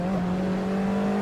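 A race car in a racing video game powers out of a corner at Cadwell Park during a TCR championship round, its engine holding a steady, loud, sustained drone throughout the short moment with no talk.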